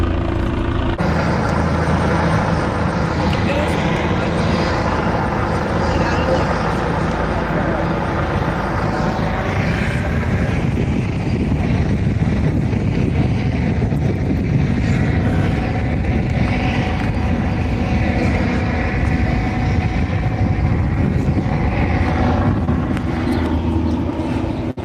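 A police helicopter hovering overhead, a loud, continuous rotor and engine roar holding steady for the whole stretch, with a person talking faintly beneath it.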